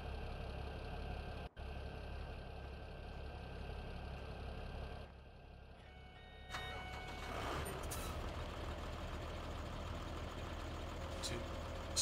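Tractor engine in Farming Simulator 17 on a seasonal Emerald Coast farm map, a steady droning rumble that shifts as the machine repositions, with faint beeping and a brief hiss partway through.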